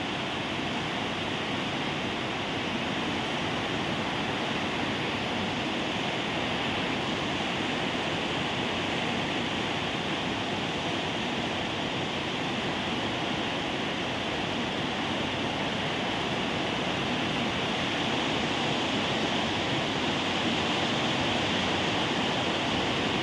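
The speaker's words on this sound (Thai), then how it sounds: "ดูน้ำไหลตรง ราคาครับผม น้ำไหลมาก น้ำไหลแรงมากครับผม" Heavy, steady roar of floodwater rushing after heavy rain, loud and continuous throughout with no pauses, like a strong torrent flowing close by.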